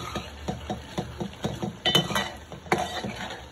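A metal lid lifted off a cooking pot of frying masala for a kolbi (shrimp), brinjal and potato curry: light metallic clinks and clatter in short bursts, close by, with no speech.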